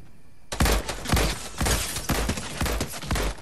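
A rapid string of about half a dozen sharp gunshots rings out in Fortnite, loud and close, each blast evenly spaced after a brief quiet start.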